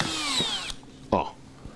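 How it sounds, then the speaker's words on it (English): A power drill winds down with a falling whine, then gives a short second burst of spin-up, close and fairly loud with brief clunks between. "The drill."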